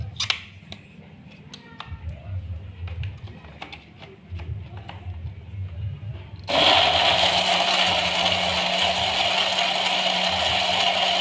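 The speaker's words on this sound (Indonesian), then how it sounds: "kita blender" A kitchen blender grinds garlic, shallots, galangal, ginger and red chilies with a little water, starting abruptly after quieter clinking and chopping, then running as a loud, steady, high whirring roar until the end.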